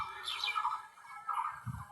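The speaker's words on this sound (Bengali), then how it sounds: "পাখির সাউন্ড পাচ্ছেন কি সুন্দর" Birds chirp outdoors in a village at dawn, bright bursts of song coming in short phrases at moderate distance over a quiet background, with a low rumble near the end.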